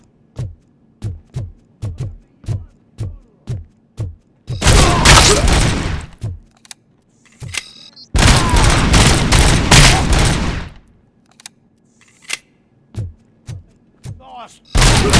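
Gunfire in the video game RoboCop Rogue City: a steady run of loud single shots, then two long dense bursts of automatic fire, with isolated shots between them and more single shots after.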